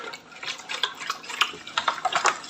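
Fino bread dough ingredients with vinegar being stirred in a bowl, a soft, irregular clinking and scraping that runs steadily and close for a few seconds.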